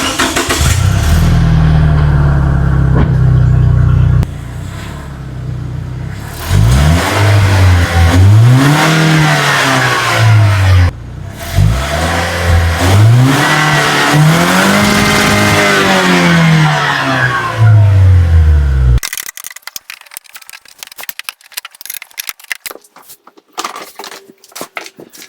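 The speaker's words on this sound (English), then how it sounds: "I'm gonna give you some revs with the stock exhaust" Lexus IS engine on its stock exhaust, revved several times in rising and falling sweeps; loud and close, idling between blips, then cutting to quieter clattering after the engine stops.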